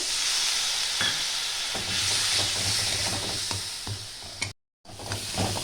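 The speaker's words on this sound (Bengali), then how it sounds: "দিয়ে মশলাটা আর একটু কষিয়ে নিতে হবে" Spice paste sizzles and fries in a pan for a Bengali elephant-foot yam curry with hilsa fish head, with steady broadband hiss and soft periodic stirring scrapes; a brief dropout near the end before the sizzle resumes.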